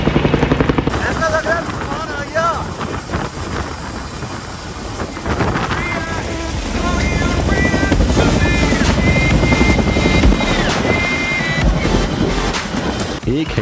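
A Chinook twin-rotor helicopter at the Kedarnath helipad roars loudly and steadily, with rotor thumping and wind buffeting, while a crowd and voices are heard under it.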